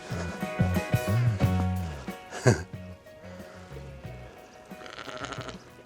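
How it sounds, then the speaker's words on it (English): Several sheep bleat in overlapping, drawn-out calls close by on a Lincolnshire walking trail, with a brief clatter partway through and a steady outdoor background. "Lots of sheep."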